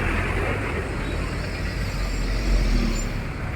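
A bus rolls along a road beside the NH66 highway construction site at Cheruvannur, a loud, continuous engine rumble with traffic noise that swells briefly near the end, with no clear speech.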